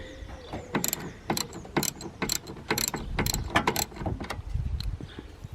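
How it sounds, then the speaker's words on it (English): A nylock nut on a Subaru Impreza STI intake is worked loose with a ratchet, giving a run of sharp, rapid clicks in uneven bursts close to the listener. "is that actually the nut coming off"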